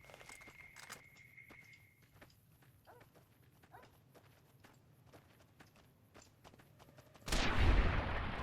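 Gunfire at a shooting range in the game Fallout New Vegas: scattered faint clicks and small knocks, then one sudden loud blast near the end that rings out.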